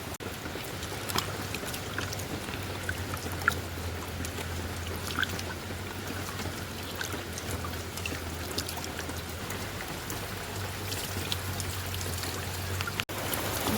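Heavy rain pours steadily on a flooded farm, a dense continuous hiss with scattered drips and splashes close by, and a low steady hum running beneath it throughout; nobody speaks.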